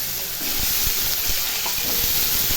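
Cut potatoes go into a hot pan and fry with a loud, steady sizzle and hiss, broken by soft stirring knocks of a utensil, close up with no talking.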